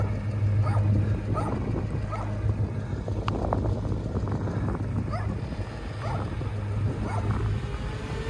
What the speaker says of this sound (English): The barking rat. The attack dog.